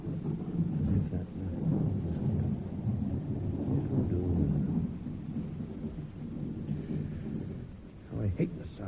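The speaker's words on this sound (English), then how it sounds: "How I hate the sound of trees in a storm at night." A thunderstorm with heavy rain serves as a sound effect in a radio drama, with steady rumbling thunder and rain hiss throughout and a voice speaking briefly over the storm.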